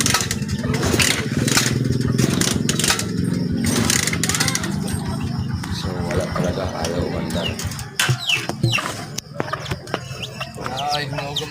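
A Honda 125 Alpha motorcycle engine starts and settles into a steady, close putter outdoors, with birds faintly audible and a few sharp knocks and movement sounds near the end; no one speaks.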